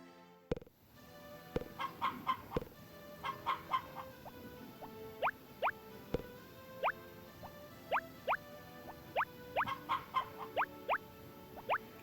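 Chickens clucking in the video game Harvest Moon: Back to Nature, short repeated calls spaced fairly evenly, with a few sharp taps and thumps at the start, close and clear without speech.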